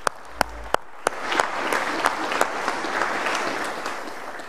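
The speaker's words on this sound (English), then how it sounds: "Big round of applause again." Applause at a Sunday morning church service begins with a few separate sharp claps, then swells into steady clapping from the congregation, moderately loud and continuing to the end.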